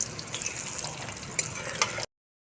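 Duck egg chops frying in hot oil, a steady close bubbling sizzle with a couple of sharper spits, cutting off abruptly.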